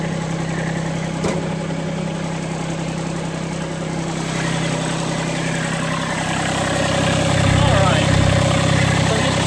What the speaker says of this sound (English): we could do this with the engine running